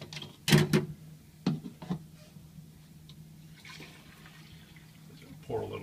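Liquid PhotoFlo is poured into a film developing tank in a few short splashy bursts, followed by quiet gaps and a last brief trickle near the end.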